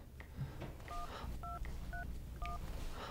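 Touch-tone telephone keypad beeping as a number is dialed for a call, five or six short dual-tone blips spaced about half a second apart over low background hum.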